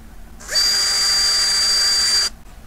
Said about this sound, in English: Now I'm using metal drill bits.